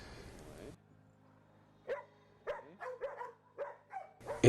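Several short, sharp barks from dogs at a training session with kennel boxes nearby, arriving in an irregular cluster after a brief stretch of voice and a quiet pause, moderately loud and close.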